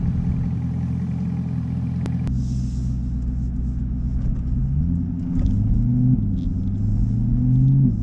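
Chevrolet C8 Corvette engine rumbling steadily inside the car while driving, with a low, loud drone that rises in pitch midway as the engine revs and accelerates through changing gears.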